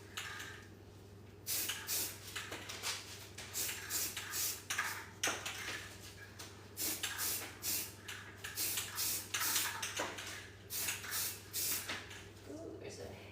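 Aerosol spray paint applied to a dance studio mirror frame in a series of short, close hissing bursts with brief pauses between them, over a low steady hum.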